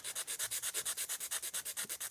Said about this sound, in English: these sanding sticks to get me to the line.